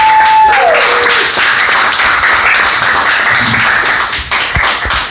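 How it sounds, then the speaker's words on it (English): A small comedy-club audience of roughly twenty claps and cheers for a comedian, a loud, steady burst of applause filling the room with no talking over it. "Let's clap and make some noise, everybody, for Denzel Snipe."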